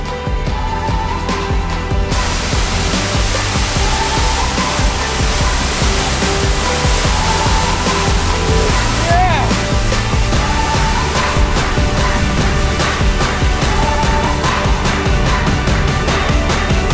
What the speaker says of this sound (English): this waterfall is looking pristine